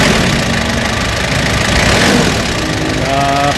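A repaired Kia K2700 engine runs loud and close with a steady, even drone, rising slightly partway through, and no talk.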